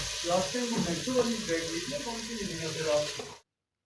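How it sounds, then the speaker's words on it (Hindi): Liver and mutton masala frying in a home kitchen pan, a steady close sizzle with faint stirring clatter for about three seconds before cutting off. "तो ये मसाला फ्राई हमारा हो रहा है, अभी बन रहा है।"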